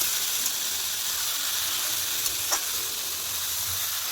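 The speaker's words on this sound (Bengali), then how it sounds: "ভালো করে নেড়ে নিয়ে এবার দিয়ে দেবো ম্যারিনেট করে রাখা মাটনটা।" Marinated mutton with grated garlic in oil gives a steady, dense sizzle and hiss in a pan. A couple of faint scrapes from stirring come through, and no one speaks.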